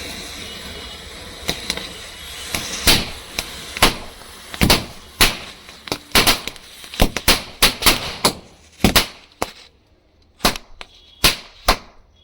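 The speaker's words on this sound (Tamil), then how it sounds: "இதை வந்து பொருத்தி வைக்கலாம் எப்படி வெடிக்குது அப்படின்னு சொல்லி பார்க்கலாம்" A homemade beedi firecracker string goes off in a rapid, irregular series of sharp, loud pops and cracks, with some bursts clustered and others spaced out, and no talking.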